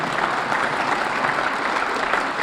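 Sustained applause from an audience at an evening awards ceremony for the Dave Cowens Award, dense steady clapping filling the room at full volume without a break.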